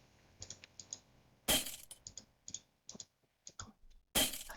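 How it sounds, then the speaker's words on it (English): A computer mouse gives a run of sharp, dry clicks in irregular clusters, close and quiet, with a couple of louder broadband bursts between them. "That was about 4 mouse clicks for it to go."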